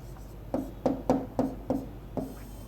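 Chalk or marker writes a formula on a board in six short, evenly spaced scratching strokes, close and clear over a quiet room hum, with no talk during the strokes.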